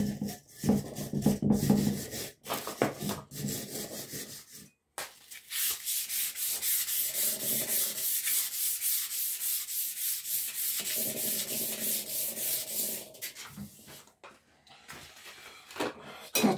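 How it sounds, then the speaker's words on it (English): Hand sanding on a restored woodworking vise with 100 and 400 grit sandpaper: a few short rubbing strokes, then long, steady, close raspy scrubbing that runs several seconds, pauses briefly and resumes, with no talking. "That's 100 grit sandpaper, and this is 400 grit."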